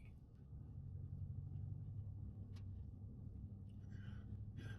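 A car passes on a road near a laneway, a steady low rumble of engine and tires holding through the clip, moderately close, with faint scattered background noise and no talk.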